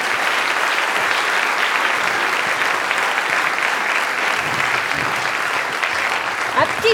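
Audience applause welcoming the Ballet Junior de Genève dance company at the Swiss performing arts awards ceremony, a dense, steady, loud wash of clapping that carries evenly through the whole stretch.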